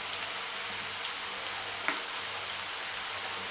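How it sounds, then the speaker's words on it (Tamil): Vegetable kofta balls frying in oil, a soft continuous sizzle with occasional faint pops and spits, fairly quiet and steady throughout. "இதை வந்து நம்ம எண்ணெயில் ஃப்ரை பண்ணிக்கலாம்"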